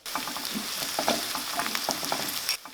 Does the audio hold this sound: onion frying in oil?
yes